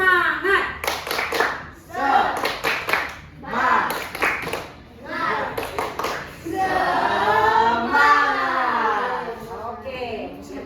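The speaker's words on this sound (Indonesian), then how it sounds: "Tepuk semangat." A classroom group claps a rhythmic spirit-clap pattern in repeated bursts of quick claps with pauses, then breaks into cheering voices and chatter that runs to the end.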